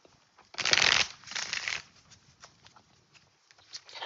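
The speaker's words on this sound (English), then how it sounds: "let's take out an oracle card for advice and clarity" Oracle cards shuffled by hand at close range, a loud riffling burst followed by softer shuffling and a few light card taps, with no talking.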